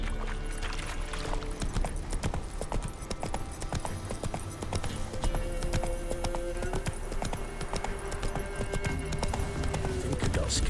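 Hooves of Geralt's horse Roach clip-clop in a steady gallop across The Witcher 3's open world, loud and continuous, with faint game sounds and a brief whinny in the background.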